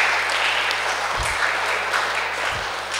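Audience applause at a youth retreat, a steady, moderately loud patter of many hands clapping that holds throughout, with a couple of low thumps and no speech.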